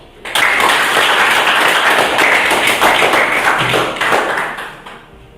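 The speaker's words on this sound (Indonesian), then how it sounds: "Marilah kita berikan tepuk tangan untuk beliau." A school audience claps after a song performance at a Youth Pledge commemoration; dense applause starts abruptly, stays loud for several seconds, then tapers off.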